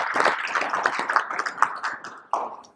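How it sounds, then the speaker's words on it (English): Audience applause at the closing of a Namibian higher education ministry event, a short burst of scattered hand clapping that swells and fades over a few seconds with no talk on top. "A hand of applause for all of us."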